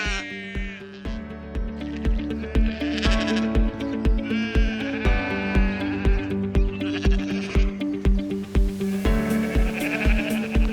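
Sheep bleat repeatedly in wavering, drawn-out calls, loud and close, over a steady ticking beat that runs throughout.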